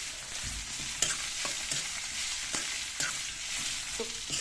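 Kachnar buds (bauhinia flower buds) frying in a pan with a soft, continuous sizzle, punctuated by irregular scraping clinks of a spatula stirring them about.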